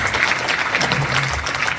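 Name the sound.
audience applause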